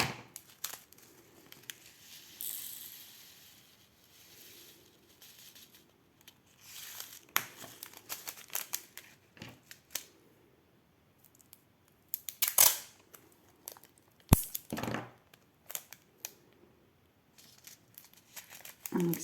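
Sticky tape is pulled from a roll in short ripping bursts while making a Christmas diamond painting craft, with crinkling and handling noises between, close up amid quiet pauses.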